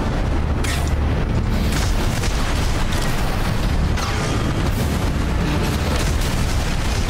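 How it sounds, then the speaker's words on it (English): Missile explosions in the Armored Core VI mech game, a continuous loud rumble of overlapping blasts and booms with no pause. "Oh, there's missiles everywhere."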